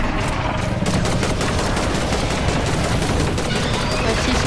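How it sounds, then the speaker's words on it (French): Dense, continuous rapid gunfire in a video game as shots are fired at a giant squid's eyes, loud and unbroken throughout. "Donc on va continuer de lui tirer dans les yeux."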